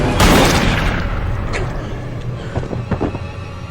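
A loud gunshot boom from a scene in The Happening opens the clip and reverberates away, followed by fainter scattered knocks and clatter.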